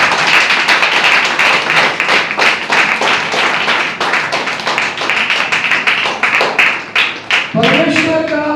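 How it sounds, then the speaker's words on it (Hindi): A church congregation claps loudly and steadily in dense applause that fills the whole stretch, ending with a sudden tonal voice or instrument entering near the end. "परमेश्वर की महिमा के लिए जोरदार ताली मारो"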